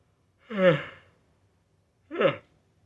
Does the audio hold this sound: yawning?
yes